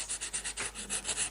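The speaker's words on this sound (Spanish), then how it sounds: "Entonces la voy a lijar" Fine sandpaper rubs steadily over a half-sphere relief on a crafted vase, in rhythmic back-and-forth strokes, close and fairly loud with no voices.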